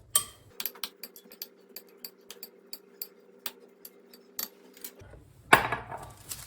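Quick metal-on-bowl taps and scrapes ring out in a steady rhythm as salt, black pepper and olive oil are stirred into seasoning for sea bass, close and clear, ending with a louder clatter.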